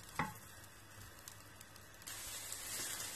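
Garlic sizzles in coconut oil in a cooking pot, a steady hiss of frying that swells slightly toward the end, with a brief clatter near the start.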